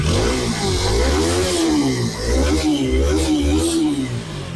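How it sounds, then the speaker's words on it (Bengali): A used TVS Apache RTR 4V motorcycle engine runs loud and close, a steady throbbing idle that rises and falls slightly, with no one talking over it. "আমি যদি আপনার বাইকের একটু ইঞ্জিন সাউন্ড কন্ডিশনটা দেখাই"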